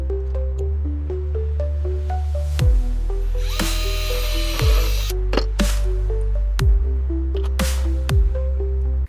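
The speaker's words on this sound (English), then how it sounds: "So I'm going to drill this hole next" A power drill bores a hole through wood, the motor whirring in repeated bursts that rise and wind down, with a brief harsher grinding stretch as the bit cuts, loud and close with no talking.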